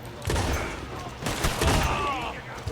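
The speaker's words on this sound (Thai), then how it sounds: "ถือลูกซองกระโดดเข้าไปครับ" Shotgun blasts in the Red Dead Online video game, a few sharp bursts at close range with a voice talking over the gunfire.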